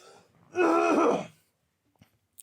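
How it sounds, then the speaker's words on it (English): One harsh, throaty cough, close and fairly loud, lasting under a second, followed by near silence and a faint click. "Sorry, I'm going to cough again."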